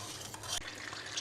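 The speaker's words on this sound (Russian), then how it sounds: "И будем жарить на вот этом утином жире" Potatoes fry in duck fat with a steady sizzle and a brief stirring scrape partway through, close and continuous, no voices.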